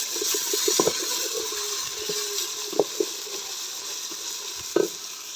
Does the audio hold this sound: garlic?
yes